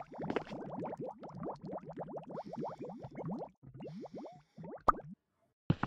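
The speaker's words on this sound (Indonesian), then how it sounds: "Ternyata itu suara lava yang berada 1 lapis di atas kakiku." Bubbling lava in the video game Mini World: a quick, continuous run of wet blup-blup plops and bursts, fairly quiet, broken by a short gap and a final sharp click, no talking.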